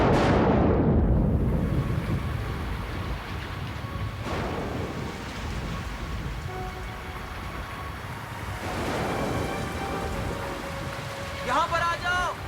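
Rain falling in a storm during a Hindi horror drama, a steady broadband hiss of downpour throughout with a couple of low rumbles and a brief tinkling near the end.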